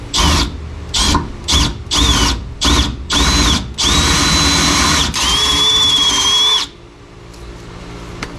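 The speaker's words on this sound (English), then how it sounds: "I guess I could drill that hole bigger and use the bolts they include" A power drill enlarges a bolt hole during a dual exhaust install on a 1968 Pontiac LeMans, whirring loudly in several short bursts, then a longer steady run that winds down into quiet.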